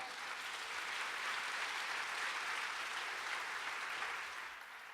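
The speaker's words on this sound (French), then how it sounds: "On peut les applaudir!" Audience applause at a student comedy show in a lecture hall, a dense, steady roar of many hands clapping that holds for several seconds before easing slightly at the end.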